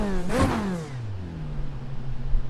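Race car engine in the iRacing sim revs up sharply in a quick rising sweep, then drops and settles into a lower, steady drone, close and loud with no talking.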